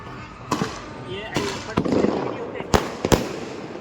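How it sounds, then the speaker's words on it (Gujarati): Several sharp firecracker bangs burst at irregular intervals, loud and close, over a noisy crowd with people talking at an Uttarayan kite festival in Gujarat. "ફટાકડા જો ફૂટે છે."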